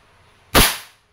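One sharp, close shot from a Crosman SNR 357 dual-ammo airgun, a sudden crack that decays quickly into quiet.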